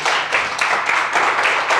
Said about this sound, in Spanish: le pido por favor un fuerte aplauso para mi hermano Jaime